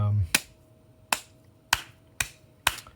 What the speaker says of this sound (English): I clap when I'm nervous